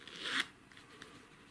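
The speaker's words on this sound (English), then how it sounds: "We've included a paper clip, so it'll make it easier and act as a zipper tab as you pull it across." A headband cover on an AHG QC25 headband is zipped closed with a paper clip as the pull tab, giving one short, close rasping zip, followed by a few faint ticks in a quiet room.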